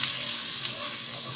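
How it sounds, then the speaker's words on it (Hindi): Onions sautéing in a hot pot, giving a steady, bright sizzle that hisses continuously at moderate loudness with no voices over it. "अब इसमें हमने ये प्याज भी ऐड करनी और इसको 6-7 मिनट ज़रा सौते करना है"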